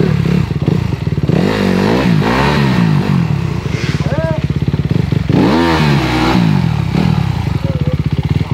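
A motorcycle engine revs up and down repeatedly, loud and close, with rising and falling pitch sweeps and a rough clattering idle between bursts; people's voices are not clearly separable from the engine.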